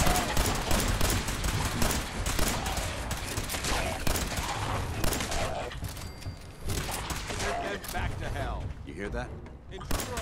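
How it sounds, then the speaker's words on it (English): Laser rifle fired from power armor in Fallout 4 lets out a rapid, machine-gun-like stream of shots, loud and continuous, packed in with mechanical game clatter and a voice over the top. "look at the power armor laser rifle fire rate. Like a bloody machine gun"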